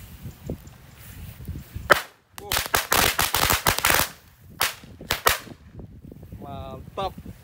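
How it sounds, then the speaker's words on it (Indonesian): Firecrackers go off inside a water gallon: a rapid burst of sharp, cracking bangs around the middle, then a few more isolated pops, loud and close, with quieter rustling between. "Lanjut kita nyalakan mercon korek 2 tor 1 pak."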